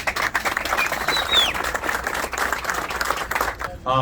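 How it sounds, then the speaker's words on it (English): Crowd at a Queens Hatzolah ambulance inauguration applauding, a continuous round of clapping with faint chatter and whistles mixed in, tapering at the end. "Give yourselves a round of applause."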